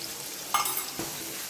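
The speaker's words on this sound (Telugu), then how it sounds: "ఆనియన్స్, కరివేపాకు, తెల్లగడ్డ మొత్తం ఒకేసారి వేసేసి ఫ్రై చేసుకుంటాము." Onions, curry leaves and garlic tossed together into a hot pan of oil, a quiet sizzle with a sharp stir or clatter in the middle and a softer second scrape.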